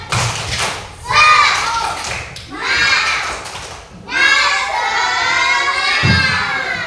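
Schoolchildren repeat the tepuk semangat clapping chant, bursts of rhythmic claps mixed with loud unison shouting from the whole class, close and energetic.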